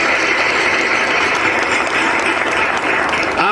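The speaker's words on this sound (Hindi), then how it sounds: "उस बच्चे के पिताजी के लिए, श्रद्धेय सूर्यभान पांडे जी के लिए जोरदार तालियां हो जाए" Loud, sustained applause from an audience at a student talent-honoring ceremony at Anjaneshwar Mahadev Anjana Dham, a dense steady clatter of many hands that continues without pause and cuts off abruptly at the end.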